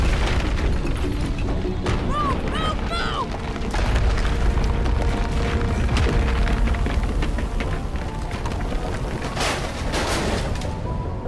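Volcanic eruption in the Mass Effect game, deep continuous rumbling booms and crackling debris bursts over a sustained low roar, with a few brief synthetic tones and sharp hits layered on top.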